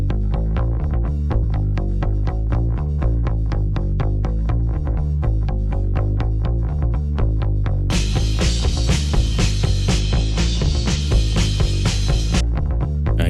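A full band mix of a song plays loudly with a steady pounding beat, and a higher, brighter keyboard layer enters partway through and carries on over the groove to near the end.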